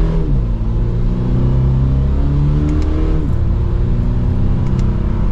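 A 2022 Toyota GR86 Premium pulls hard from first gear, the engine rising steadily in pitch before a brief dip at an upshift, then climbing again. The sound is loud, close and continuous, a sustained rev from inside the car with no talk over it.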